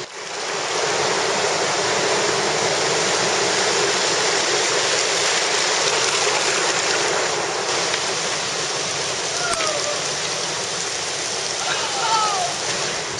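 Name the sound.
sea waves surging through the Bloukrans river mouth at high tide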